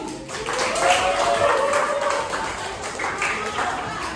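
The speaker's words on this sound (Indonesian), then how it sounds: "tepuk tangan dulu" A classroom of students clapping hands together in an Indonesian lesson, a few seconds of moderate, somewhat scattered claps with faint voices mixed in.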